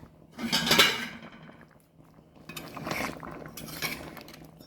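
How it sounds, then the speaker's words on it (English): Curry turkey neck and flour are stirred in a pot, giving faint scraping and clinking from a spoon against the pot. The sound comes in uneven bursts with quiet gaps between them. "we're going to give that a good stir"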